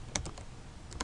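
A few sharp computer keyboard keystrokes, typing a command at a command prompt, spaced unevenly with short pauses between clusters, quiet and close with no voice.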